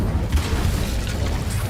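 A fiery spell blast from the Incendio charm in Hogwarts Legacy gives a loud, dense whooshing roar with a booming low end, sustained for under two seconds.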